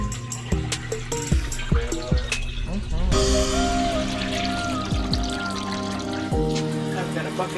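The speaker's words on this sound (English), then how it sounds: "Ooh, drain that muddy water." Muddy water draining from a Kuppet 26 lb portable washing machine in a camper, a steady pouring trickle with surges under ongoing talk and some clattering.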